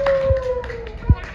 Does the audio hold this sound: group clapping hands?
yes